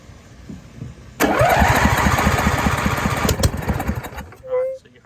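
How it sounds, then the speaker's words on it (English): A small lawn mower engine catches and fires, a loud rapid chugging burst that runs for about three seconds before dying away, followed by a brief tonal whine. "you heard it fire off. That means that we have spark and the motor will run"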